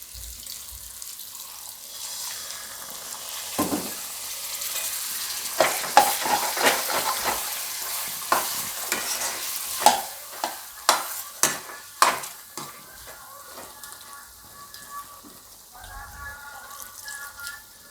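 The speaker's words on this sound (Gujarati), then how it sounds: "હવે આપણે આમાં થોડુંક પાણી નાખશું." Water pours into frying masala gravy in a pan, followed by a run of sharp spoon scrapes and stirring knocks over a soft sizzle, fairly close and with no voices.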